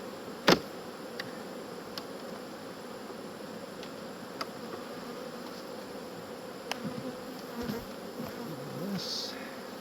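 Honey bees buzz steadily around their hives during a robbing frenzy, a constant mid-level drone with a few sharp clicks and faint knocks scattered through it, no voices.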